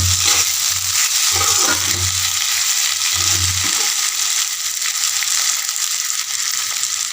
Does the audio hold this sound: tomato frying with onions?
yes